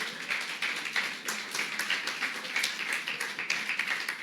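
A church congregation applauding during a service, a steady, dense patter of many hands clapping at moderate distance, evenly sustained with no voices.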